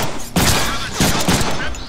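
Gunfire in a Deadpool video game: loud sharp bursts of shots in quick clusters, near and harsh, with brief gaps between volleys and no clear talk.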